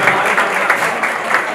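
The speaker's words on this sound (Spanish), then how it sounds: "Un aplauso, yo creo, a vosotros mismos." An audience claps steadily at a diploma ceremony, a brief, dense burst of applause from a roomful of people.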